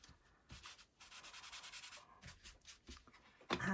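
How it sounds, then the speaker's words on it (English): Chalk is rubbed across a paper napkin being made into decoupage, giving short bursts of soft, dry scratchy rubbing strokes that start and stop, close and quiet. "I'm just going to rub a little bit of chalk on there"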